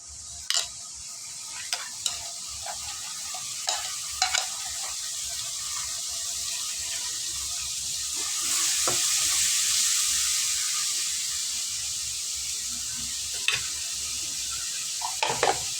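Two chopped onions hitting hot oil with cinnamon, stone flower and clove for a mushroom kurma, a loud continuous hiss that swells midway, punctuated by sharp ladle taps and scrapes on the pan, no voices.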